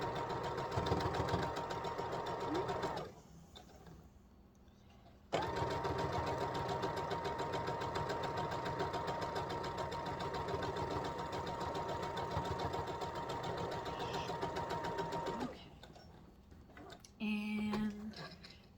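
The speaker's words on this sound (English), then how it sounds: "You just sew it on. And you'll sew this one down first." Sewing machine stitching a scented hot mat, a steady close mechanical whir that runs in long stretches, stops briefly, then resumes, with a short gap of quieter handling sounds near the end.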